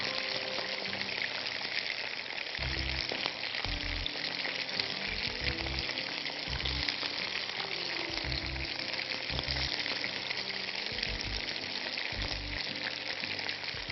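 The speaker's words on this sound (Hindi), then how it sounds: "और लास्ट बैच ऑफ चिकन जो है उसको भी हम फ्राई कर देते हैं।" The last batch of chicken for orange chicken fries in hot oil, a loud, steady, close sizzle that runs throughout, with occasional low knocks from stirring and no talking.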